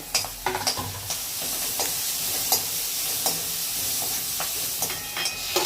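Chopped onions sizzle and fry in a pan for vegetable pulao, a steady close hiss broken by occasional stirring clinks and scrapes, with no voices.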